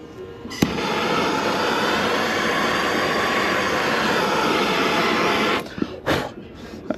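A torch roars steadily against a 1984 Harley-Davidson FLT Tour Glide engine part, a loud close hiss lasting several seconds, cut off abruptly and followed by a few short bursts of sound.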